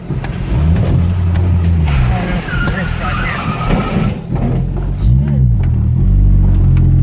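A truck engine roars and revs up close, with a rush of splashing and tire noise as it drives through a rain puddle on a street, loud and continuous.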